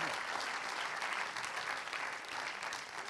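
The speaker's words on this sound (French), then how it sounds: "Vous pouvez le remercier par vos applaudissements." An audience applauds economist Nicolas Bouzou after his talk on pricing, a faint, even wash of many hands clapping that holds steady for the whole span.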